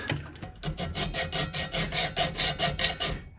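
A hacksaw cutting metal clamped in a vise, a close, rhythmic rasping of about a dozen even back-and-forth strokes.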